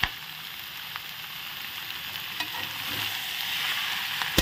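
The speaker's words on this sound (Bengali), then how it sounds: "এখন নেড়ে চেড়ে আমি কষিয়ে নিই।" Goat liver and young green jackfruit stir-fry in a pan with a steady, moderate sizzle and faint scraping of the spoon, no voices.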